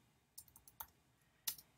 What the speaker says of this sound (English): typing the vowel